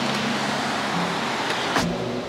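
An old, small elevator runs in an older building with a steady mechanical hum and rumble, plus a brief clunk near the end, close and moderate in level with no talking.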